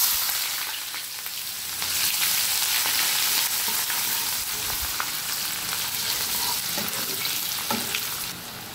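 Onions hitting hot oil seasoned with nigella seeds and dried red chilli in a pan, a loud, close, continuous sizzle with scattered crackles and stirring scrapes, tapering slightly at the end, no talking.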